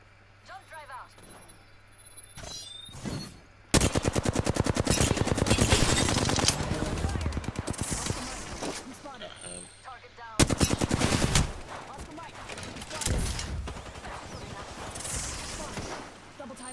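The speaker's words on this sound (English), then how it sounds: "We're shooting." Automatic gunfire in the video game Apex Legends rattles out in loud, dense rapid-fire bursts, with a pause and then a second long volley, while players talk over the shooting.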